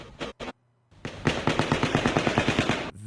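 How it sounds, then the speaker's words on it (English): Two sharp, close gunshots ring out at the Las Vegas shooting, then a brief pause and a loud, rapid eight-shot burst of automatic fire lasting under two seconds. "This shot and this first 8-shot burst sound like they're happening very, very close."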